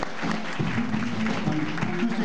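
Audience applause at a Sunday jazz session in a Vancouver pub, a steady wash of clapping with a low musical or crowd drone running underneath.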